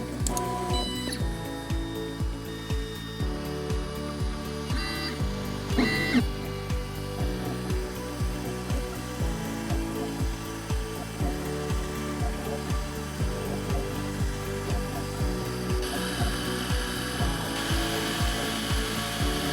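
An Ultimaker 3D printer prints a keyring, its stepper motors whirring and buzzing in steady rhythmic pulses with repeating tonal sweeps and clicks, close and continuous throughout, with no voices.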